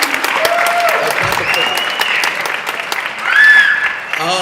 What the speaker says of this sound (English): Please, big warm applause for Dupree.